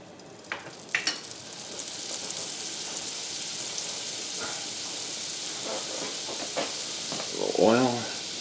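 Butter melts in a hot pan with a dense, crackling sizzle that runs throughout, with a few sharper pops early on. A voice speaks briefly near the end.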